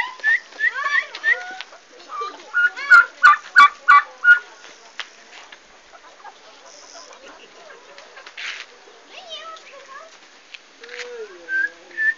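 A farm duck in Minas Gerais being chased, with fowl squawks and honks close by, loud excited bursts alternating with quieter calls while people shout and talk throughout.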